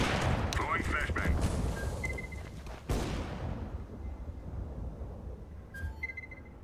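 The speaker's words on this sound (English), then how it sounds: "Throwing flashbang." Counter-Strike: Global Offensive combat: a thrown flashbang grenade bursts with a sharp crack and ringing tail amid gunfire and game effects, with voices speaking over it.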